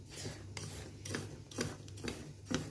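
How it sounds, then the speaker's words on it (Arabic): A spoon stirs basbousa caramel batter in a bowl, producing a faint, rhythmic series of scraping, clinking strokes roughly every half second. "قلبي قلبي قلبي الخليط ده كله مع بعض"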